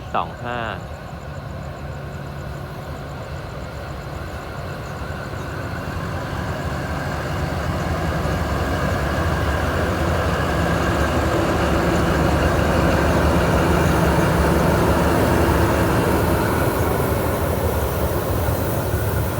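An Alsthom 4154 diesel locomotive heading freight train 725 idles with a steady low rumble that grows slightly louder over time, a brief horn-like tone at the start and someone speaking over it.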